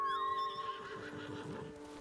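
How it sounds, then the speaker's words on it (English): A horse whinnies loudly when called in, a single rising then falling neigh with a few faint hoof clops, in the video game Ghost of Tsushima. "maybe if I can call my horse in, I can get through here quicker"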